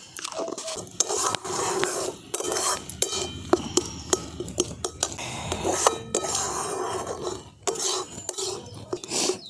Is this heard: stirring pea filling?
yes